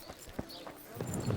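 Hollow horse hoof clops from Kingdom Come: Deliverance sound in a loose rhythm, fairly close, with a brief whinny-like rise near the end over a soft background bed.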